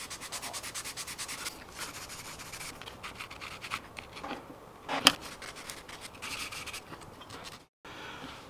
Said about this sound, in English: we're going to take a coarse sanding stick and sand away any excess material from the 4 points